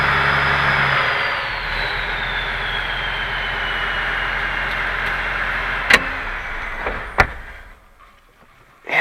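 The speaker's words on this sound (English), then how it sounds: "You can hear that turbo." A car's turbocharger whistles as a thin high whine over a steady low engine drone, trailing off while a few sharp clicks and knocks sound near the end before the engine note drops away.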